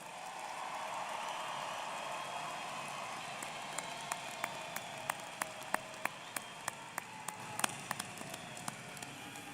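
Applause from a large audience at a university commencement ceremony, a steady wash of many hands clapping with a few sharper individual claps standing out near the end, fairly distant and even throughout.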